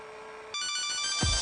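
A Kyocera Slider phone's ringtone plays loud and close in a TV advert, a bright sustained electronic tone kicking in partway through, followed by a deep thump at the end.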